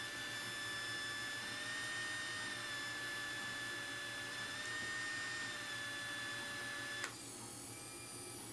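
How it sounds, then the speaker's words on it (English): A 3Doodler 2.0 3D pen runs with a continuous whirring, buzzing drone from its internal gear, steady and close, with a slight drop in pitch and level near the end. "I was really surprised when I turned this on that it had a whirring, buzzy noise the entire time."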